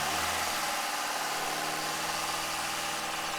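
The engine of an Audi A3 runs steadily at a held 2,000 RPM, a close, constant hum and rumble with no talking.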